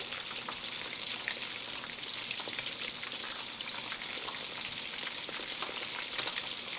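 A fish fillet fries in a shallow layer of hot oil, giving a steady, dense crackling sizzle that stays close and even throughout, with scattered tiny pops and no voices.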